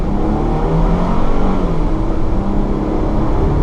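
A 2015 Ford Transit 350 EcoBoost long-wheelbase low-roof van pulls away from a standing start, its engine droning steadily and close from inside the cabin with no talk over it.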